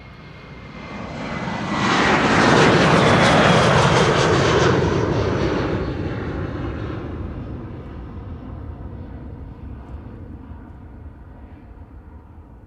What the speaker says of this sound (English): it was an Air Canada Dreamliner